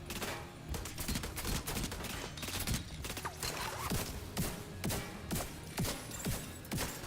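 Minigun fire in The Division 2 video game, a continuous rapid fusillade of shots with heavy thuds mixed in, loud and sustained throughout.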